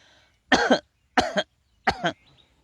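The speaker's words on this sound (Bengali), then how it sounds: "পেটে হাত নিয়ে যদি কাশি দেন তাহলে কি অবস্থাটা দাঁড়াচ্ছে" Three strong, evenly spaced coughs from one person pressing a hand on the belly during a breathing exercise, each a close, abrupt two-part burst separated by quiet.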